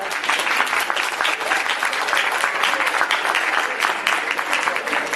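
A university auditorium crowd at a comedy monologue in Valencia bursts into dense, sustained applause, many hands clapping loudly and evenly throughout with no pause.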